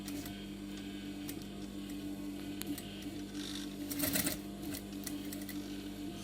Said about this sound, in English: sew along the lines that you drew in your chalk pastel